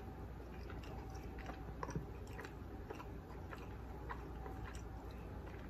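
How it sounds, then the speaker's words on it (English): Soft, close chewing of food at a seafood meal of fried fish, chicken and rice with pigeon peas: irregular wet crunches and small bites repeating over a quiet background, with no talking. "me chewing on this side more than in here, it's making it worse"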